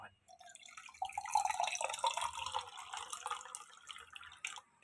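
Water runs steadily from a kitchen tap into a sink during home cooking, starting as a brief drip and then flowing continuously at close range, with faint background sounds.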